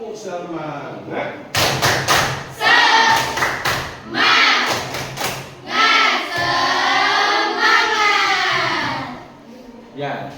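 A classroom of students repeats a 'tepuk semangat' clap chant, rhythmic group clapping in quick clusters alternating with loud chanted shouts from many voices, close and energetic.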